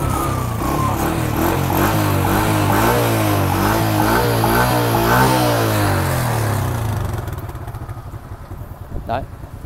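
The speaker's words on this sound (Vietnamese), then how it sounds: "Đây con Gem Thái các bạn nghe tiếng nổ này." A Thai-made Dream II motorcycle engine runs close by with a steady, throbbing idle. It then drops away, leaving quieter rattling and a brief sharp noise at the end.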